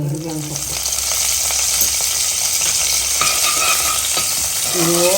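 Tempering spices with green and dried chillies crackle and sizzle steadily in hot oil, loud and close, with a few scrapes of a spoon stirring the pan.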